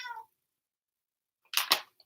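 A cat meows twice: a short fading cry at the start, then after a silent gap a sharper two-part meow close by.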